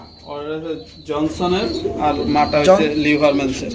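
Racing pigeons cooing close by, with a series of soft, throaty coos rising and falling in quick succession across a few seconds.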